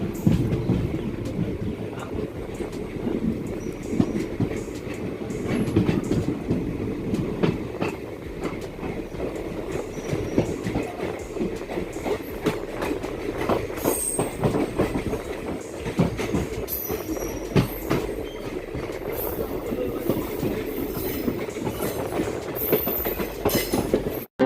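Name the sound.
Guwahati Ledo Intercity Express train departing station, moving on rails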